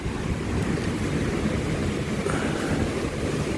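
Strong typhoon wind roars around a house during a storm, a loud continuous buffeting rush with heavy low gusts pressing on the microphone and no talk.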